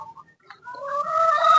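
Chickens cluck nearby, a few short soft calls followed by a louder, drawn-out clucking call rising close to the microphone.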